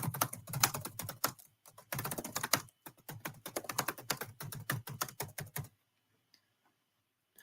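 Rapid typing on a computer keyboard while filling in a text field: dense, close key clicks in quick bursts for about six seconds, then near silence.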